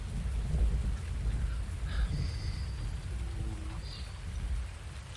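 Heavy rain falls on a farm in Farming Simulator 19, a constant dense wash with deep rolling thunder rumbling underneath and a few faint bird-like chirps.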